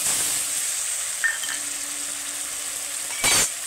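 Fried onions sizzle steadily in a pressure cooker as ground spice paste goes in, a continuous close hiss with a light utensil clink near the end and no voices.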